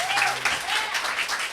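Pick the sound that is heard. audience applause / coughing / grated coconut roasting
audience applause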